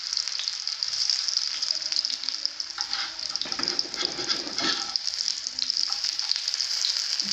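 Pakoras for kadhi pakora fry in hot oil with a loud, continuous close sizzle and bubbling hiss, with faint stirring and turning sounds underneath.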